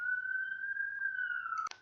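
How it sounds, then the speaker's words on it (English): A police car siren passing outside wails on one steady, loud tone that ends abruptly with a sharp cutoff; no one talks. "If you heard that police car, I just had to stop my recording."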